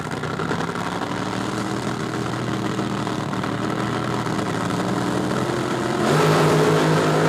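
Drag racing cars at the 1976 NHRA Springnationals rumble loudly at the start line, a dense continuous engine roar that swells sharply near the end as they rev and launch.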